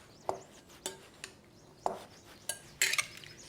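Fresh corn salad tossed in a bowl, giving a few scattered clinks and light scraping knocks spread over a few seconds, fairly close and quiet, with no talking.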